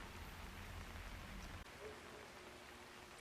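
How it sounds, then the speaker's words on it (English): Steady rain falls in the Chongqing level of the video game Hitman 3, a dense continuous hiss with no pauses and no talk. "I hate it when it rains like this."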